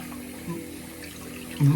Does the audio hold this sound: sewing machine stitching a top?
no